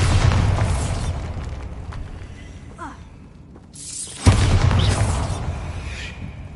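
Two Bombarda spell blasts in Hogwarts Legacy erupt as loud, booming explosions with long crackling, debris-filled tails, the second hitting sharply after a brief quieter lull.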